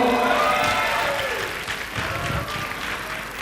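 A room applauds the 2012 prom committee at a school event, a dense wash of clapping and some cheering that starts loud and fades slightly over a few seconds, with no talking.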